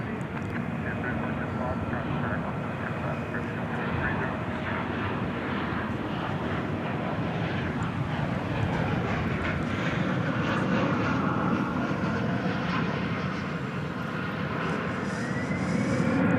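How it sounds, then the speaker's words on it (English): A Qantas airliner on flight 22 to Melbourne departs DFW Airport at night, a sustained broad jet rumble that swells gradually over the span, with talk faintly present beneath it. "Yes, flight 22 off to Melbourne was that Qantas"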